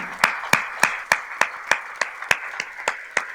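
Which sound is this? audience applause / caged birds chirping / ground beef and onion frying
audience applause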